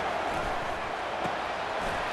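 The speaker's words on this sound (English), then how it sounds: "The crowd getting behind this defense as they try to get a stop in the red zone." A stadium crowd in the EA Sports College Football 25 video game roars steadily behind the defense during a red zone stand, a dense, continuous wash of cheering.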